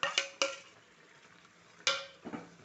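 Ground masala being stirred in a cooking pot, a few sharp scraping clatters of a spoon against metal, two close together at the start and another pair near the end, quiet in between.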